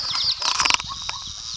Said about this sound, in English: The pig is down there. She is squealing. She thinks it's feeding time.